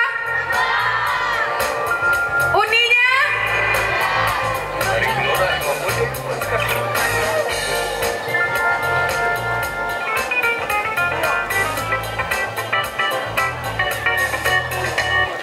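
A large outdoor crowd at a Pasaman regency anniversary celebration shouts and cheers continuously and loudly, with children's voices and whoops, while an announcer speaks over the noise.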